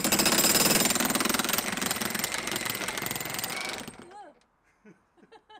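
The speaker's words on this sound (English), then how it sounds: "This worked incredibly well for breaking up the slab, which was between 4 and 5 inches thick" A cordless breaker fitted with a point bit hammers into a concrete slab 4 to 5 inches thick, a loud rapid pounding that stops after about four seconds, followed by brief speech.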